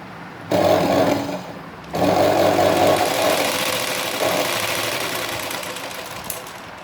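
Electric sewing machine stitching a blouse, running in two steady bursts with a short pause between and a gradual slowdown toward the end, close and fairly loud.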